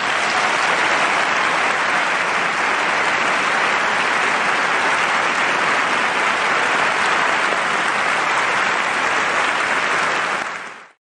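A theater audience applauding a Tony Award acceptance by Lea Salonga, a dense sustained roar of clapping from a large crowd that holds steady and then cuts off.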